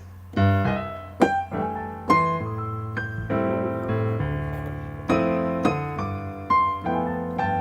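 Solo jazz piano playing a flowing line of even eighth notes over sustained chords, clear and close, with no voices.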